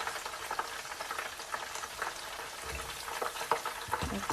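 Cheese steak egg rolls fry in hot oil with a steady, moderate sizzle and crackle, punctuated by occasional soft pops and low bumps as the pieces are moved in the pan.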